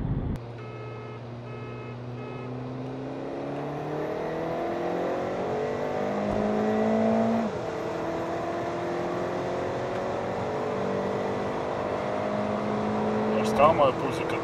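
A Skoda Rapid with a Stage 3 tuned 1.4 turbo engine accelerates hard on a race run, its engine drone climbing steadily, dipping briefly at a gear change, then pulling on, loud and close.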